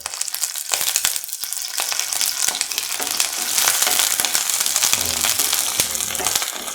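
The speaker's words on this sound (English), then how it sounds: "saute shallot." Shallots sauté in a pan for a yam and potato stew, giving a busy crackling sizzle with scattered pops and stirring scrapes throughout, with no voices.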